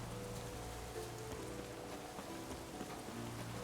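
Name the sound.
rain falling in the video game Witcher 3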